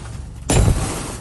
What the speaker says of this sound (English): Shocking video showing the moment ICE agents smashed a car window and forcibly removed a man in New Bedford.